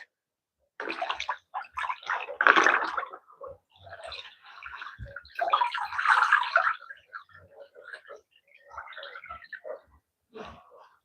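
Water drains and splashes through a sieve as mrenda cooked with pumpkin leaves is strained in a kitchen, irregular wet gurgling bursts close by with short gaps.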